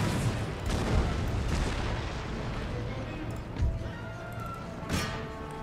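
Cannon fire in Empire Total War booms across a battlefield as several heavy, spaced shots thud through a continuous low battle rumble, one sharper report near the end.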